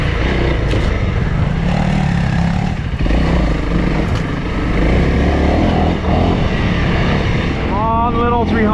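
A Honda CRF300L dual-sport motorcycle climbing a gravel mountain road in British Columbia, its engine droning steadily up close under heavy wind buffeting, with a brief whine near the end.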